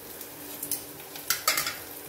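Chicken and onions fry in a pan, a faint continuous sizzle broken by a few sharp scrapes and clinks of a utensil stirring against the metal, close by and without speech.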